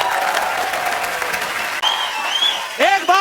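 Studio audience applause on a Hindi comedy talk show, welcoming guests to the stage: a steady wash of clapping that runs throughout, with a brief dip midway and musical tones rising over it near the end.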